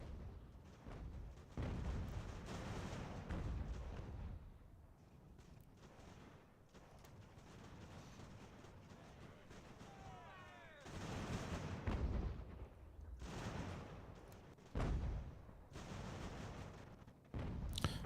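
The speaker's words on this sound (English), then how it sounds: "Just standing in the open, taking shell fire." Artillery shell fire in Ultimate General: American Revolution, a battlefield game: repeated booming blasts and gunfire crackle scattered over a continuous battle din, some near and loud, others more distant, with faint talk at times.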